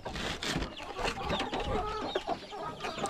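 Chickens cluck busily in a pen on a farm in the Philippines, a dense, near chorus of overlapping clucks and squawks with steady background noise and no talk.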